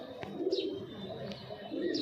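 A ringed male giribaz pigeon coos close by in soft, low, throaty bursts, with a few brief higher chirps in between and faint room noise behind.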